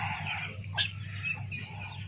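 Chickens cluck softly in the background over a low, steady hum, with a brief sharper call near the middle.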